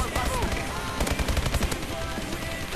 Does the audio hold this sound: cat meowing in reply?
no